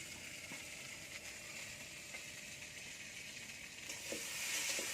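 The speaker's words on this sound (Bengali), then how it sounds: "মাছ চিচিঙ্গা ভাজা হয়ে গেছে এবার বরবটিটা তৈরি হবে তুলেছে বরবটিটা ভেজে নিচ্ছে" Small hilsa fish with ridge gourd and yardlong beans fry in oil, making a faint, even hiss and crackle at a distance, steady throughout with a slight swell near the end.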